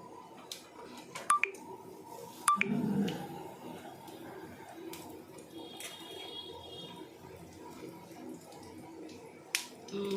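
Mustard seeds splutter in hot oil, giving a few sharp, scattered pops and crackles over a faint, quiet hiss.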